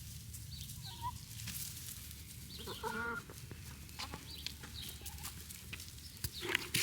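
Chickens cluck and a rooster calls around a farmyard near a house, with faint scattered bird sounds and a turkey nearby, over steady low outdoor background noise.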